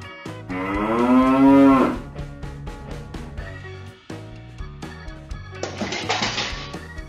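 A loud, drawn-out cow moo up close, followed by scattered knocks and shuffling, then a short rough noise near the end.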